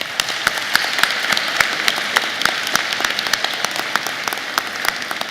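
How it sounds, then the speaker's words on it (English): Audience applauding at the Duke TIP 2016 student award ceremony, a dense, sustained crowd clapping that fills the room evenly, steady and fairly loud throughout. "Students, let's give them a round of applause."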